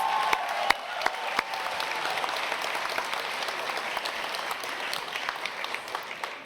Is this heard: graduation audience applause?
yes